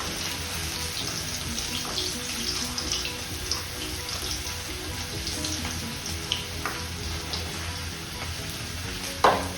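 Oil frying in a pan, a continuous close sizzle and bubbling at an even level, with faint scrapes of stirring and a sharp clink near the end.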